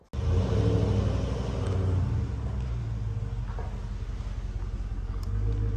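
A 2021 Dodge Charger engine rumbles loudly and steadily up close, a deep continuous drone that holds for several seconds with slight swells, no talking.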